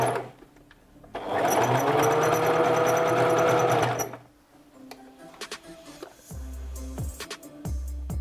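A sewing machine stitches with a double needle in a steady, fast mechanical whir for about three seconds, then stops, leaving softer clicks and handling noises from the machine.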